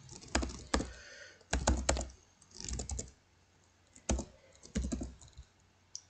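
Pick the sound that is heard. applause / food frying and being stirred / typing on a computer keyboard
typing on a computer keyboard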